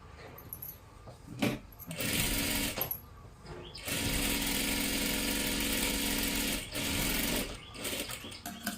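Sewing machine double-stitching a salwar seam: bursts of fast, buzzing machine stitching that start and stop several times, with short pauses between runs and a long continuous stretch in the middle.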